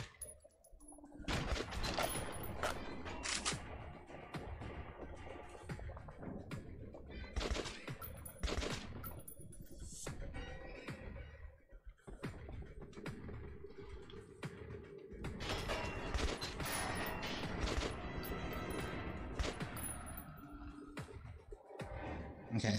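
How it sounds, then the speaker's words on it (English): Gunfire in Metro 2033 Redux: sustained loud bursts of automatic fire and single shots, mixed with mechanical clicks and creaks of weapon handling, continuous and close throughout. "They got some accurate shots there."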